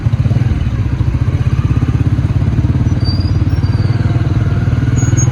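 Motorcycle riding through busy Saddar traffic along GPO Road in Rawalpindi, Pakistan, in cold weather: a steady, close engine drone with rhythmic low thumping and light clatter throughout, with no voices.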